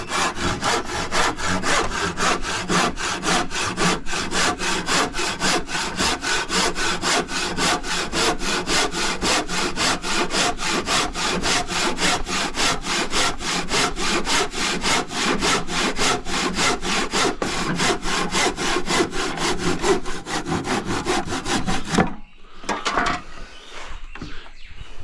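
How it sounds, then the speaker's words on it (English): A cheap handsaw cuts through wood while framing a shower seat, its rapid back-and-forth rasping strokes steady and close for over twenty seconds before stopping abruptly, followed by a few faint knocks. "not all the time a cheap saw is the go"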